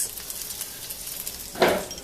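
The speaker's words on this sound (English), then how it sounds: "As you can see, it's sizzling up." Quiet sizzle of chicken frying in a pan, crackling softly throughout, with one brief louder burst of hissing near the end.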